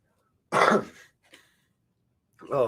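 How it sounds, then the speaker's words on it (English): A man coughs outdoors at a picnic table, with a harsh, loud cough, a faint follow-up, and another burst after a short pause. "excuse my bad cough again"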